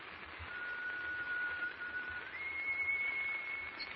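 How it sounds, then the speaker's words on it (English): A thin, steady whistle sounds from the stern of a clipper ship, held as two long tones, faint against a hushed background. "That whistle came from up at the stern."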